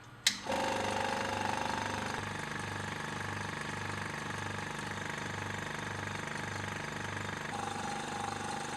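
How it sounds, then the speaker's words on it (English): A laboratory vacuum pump's steady mechanical motor drone runs without a break, with a low, regular pulsing throb underneath and no voices. "use a vacuum pump to try to get as much of the water out as possible"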